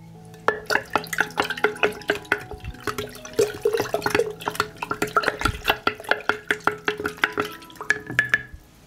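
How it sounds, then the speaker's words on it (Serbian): A spoon stirs one tablespoon of sugar into water for homemade garden fertilizer, giving a steady run of close, quick clinks and liquid swishes that keeps a fairly regular rhythm through the whole stretch. "I sve ću dobro promešati."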